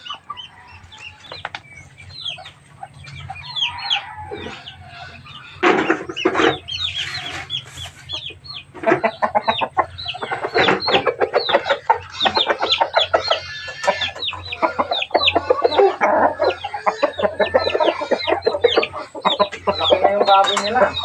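A black rooster and other fowl cluck repeatedly and crow loudly nearby in a farmyard pen, the bursts coming thick and overlapping for about twenty seconds. A low hum runs beneath them.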